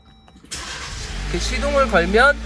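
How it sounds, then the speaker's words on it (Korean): A Jeep engine cranks and catches, then settles into a low idle hum, close by with a voice-like whine over the rising revs. "이 상태에서 시동을 걸면"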